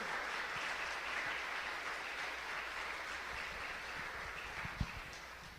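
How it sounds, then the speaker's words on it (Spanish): A church congregation claps together during a priest's testimony, a soft, steady wash of many hands at a distance, with one sharper knock near the end. "Sí, aplauda al Señor."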